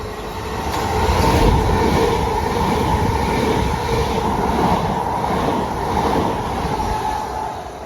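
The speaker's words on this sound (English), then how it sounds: "So all the trains going down into Kent come along here." Train passing on the fast line toward Kent in London, a steady loud rumble of wheels and carriages that rises quickly and holds for several seconds before easing slightly, close by.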